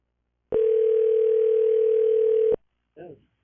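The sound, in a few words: telephone dial tone while calling someone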